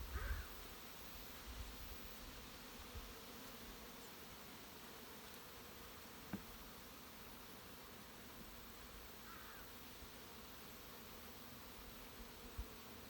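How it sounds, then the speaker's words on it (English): Honey bees buzz in a steady, dense hum as frames are shaken during a slightly rough hive inspection, the drone continuous and close with a few faint knocks and rustles. "shaking bees and stuff, they don't really like it that much"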